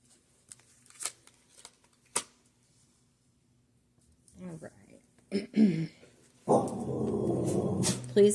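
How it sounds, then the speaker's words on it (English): Several dogs barking indoors at home, with a few short, muffled yips and barks in quick succession after scattered soft clicks. A person then starts talking over the noise. "Please excuse my dogs."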